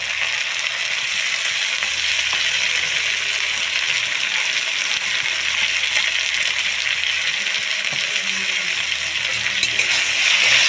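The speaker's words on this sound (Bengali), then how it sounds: "মশলাটা ভালো করে ভেজে নেব, খুব ভালো করে একটু কষিয়ে নিতে হবে।" Ground ginger, cumin and chilli paste frying in a pan for a fish curry, a loud, steady sizzle that runs unbroken, with light stirring scrapes and no talk.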